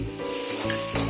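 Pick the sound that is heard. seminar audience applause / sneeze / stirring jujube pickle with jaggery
stirring jujube pickle with jaggery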